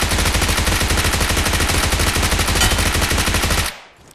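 Rapid sustained automatic gunfire in PUBG Mobile, loud and close, a dense burst of shots that runs for several seconds before cutting off abruptly.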